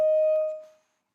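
A single synthetic tone marks the SSSI layer in the exploration mode of an ArcGIS accessible map, a clean pure beep with faint overtones that fades away within about a second.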